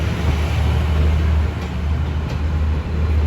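A train pulling out of Surat Thani station in Thailand makes a steady, loud, low rumble of engine and rolling wagons, with continuous heavy noise throughout.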